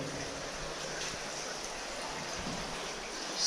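Water rushing through a metal pipe inside a slate mine, a faint steady hiss and trickle like a small stream, continuous and distant.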